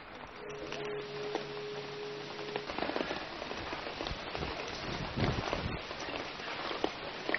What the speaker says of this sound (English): it's just started raining